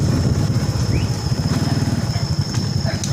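Motorcycle engine idling nearby in a mountain forest at night, a steady low putter with rhythmic pulses, faint insect-like hum in the background.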